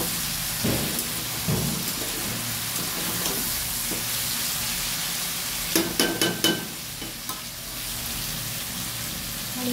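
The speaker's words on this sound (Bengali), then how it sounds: "দেখো আলু ভাজা করছি।" Potatoes frying in a pan, a steady broad hiss of hot oil under occasional stirring scrapes, with a quick burst of sharp clatters against the pan near the middle, no talking.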